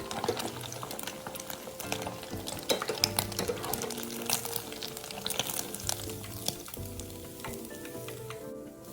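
Tofu deep-frying in hot oil gives a dense, continuous crackle and sizzle with rapid popping bubbles, plus occasional light clinks of chopsticks against the pot.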